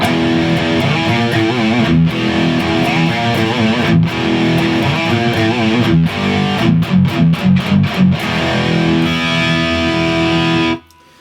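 A distorted electric guitar plays a chugging riff with sharp stops and rhythmic stabs, loud and close, then cuts off abruptly.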